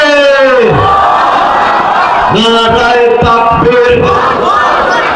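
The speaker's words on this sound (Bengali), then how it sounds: "জোরে তাকবীর দেন একজন।" A crowd gathered for an Islamic sermon loudly chants takbir together, several strong unison shouts rising and falling close by over about five seconds.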